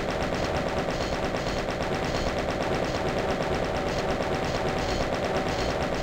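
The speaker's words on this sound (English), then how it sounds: "let's grab the chain gun and kill the arachno" Chaingun firing in the video game Doom 2, a continuous rapid stream of loud game gunfire with no breaks, dense and steady throughout.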